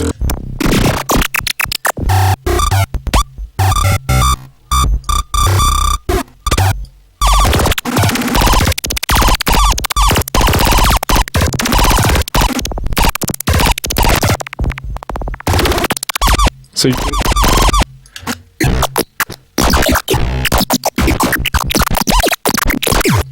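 Harsh synthesized glitch noise with chopped bursts and pitch-swooping scratch sweeps, dense and loud, broken by brief stutters and sudden cuts.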